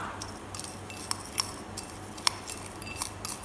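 A spoon stirs lemongrass balm mixture in a pot in one steady direction as it melts, giving light repeated clinks and scrapes against the metal over a constant low hum.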